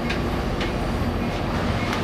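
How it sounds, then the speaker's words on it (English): Tri-Rail passenger train riding along slowly, heard from inside the car as a steady low rumble with faint periodic clicks of the wheels over the rails, with no voices. "Our first train ride."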